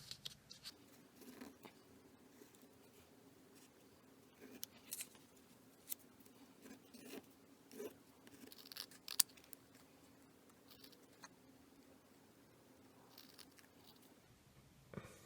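Scissors snip through fabric scraps being cut into earring shapes, a series of soft, quiet clicks and crunches scattered irregularly over a faint background hum.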